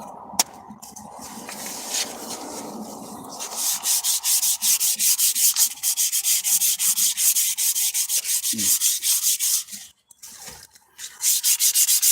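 Rhythmic hand sanding strokes rub away burrs on a piece of wood, starting faint and scratchy, then growing into steady close back-and-forth passes with a short pause near the end before resuming.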